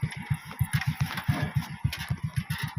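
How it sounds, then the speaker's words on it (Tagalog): A strong motorcycle engine runs close by with a loud, steady, rapid thumping pulse that keeps an even rhythm throughout. "Lakas ang motor na ito, grabe."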